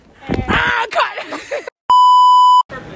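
A loud, steady electronic censor beep cuts in for under a second between bursts of excited talking and laughter.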